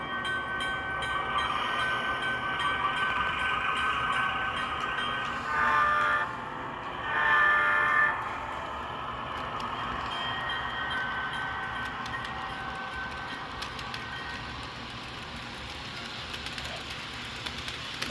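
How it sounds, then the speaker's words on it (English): An HO scale Rapido CN FP9A model diesel locomotive with DCC sound runs steadily around a layout, its engine drone continuous and moderately loud, with two short horn blasts midway. "we'll loop her around the track and show you how beautifully this locomotive runs"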